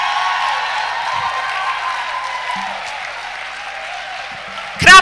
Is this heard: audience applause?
yes